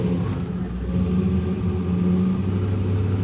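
An LS7 V8 in a 1956 Bel Air idles with a low, rough rumble and picks up as the throttle opens, the revs rising unevenly with no talk over it.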